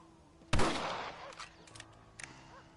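A single loud rifle shot rings out in Red Dead Redemption, a sharp crack with a short rumbling tail, followed by faint clicks and small scattered game sounds.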